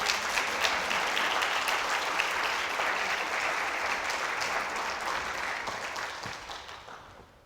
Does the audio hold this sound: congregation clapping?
yes